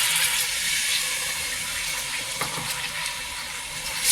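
Second coconut milk pours steadily into a rice flour mixture for mukkutty lehyam, a continuous close watery gush with no talk.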